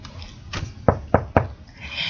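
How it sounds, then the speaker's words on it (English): Knocking on a bedroom door: four sharp raps in quick succession, close and loud, with no voices. "A brown-haired girl with light brown eyes knocked on her friend's bedroom door."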